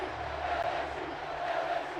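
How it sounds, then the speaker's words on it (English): A stadium crowd in the NCAA 13 college football video game chants for LSU. It makes a steady, dense roar of massed voices, heard evenly throughout. "Crowd is chanting LSU."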